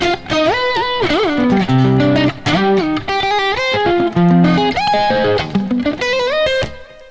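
A distorted electric guitar plays a modern metal riff variation, loud and alone, with chugging palm-muted low notes alternating with sliding higher melodic lines over about seven seconds.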